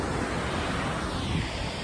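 Firehole Falls, a waterfall in western Yellowstone, roars as a steady, dense wash of falling water, loud and continuous from start to finish with no pause.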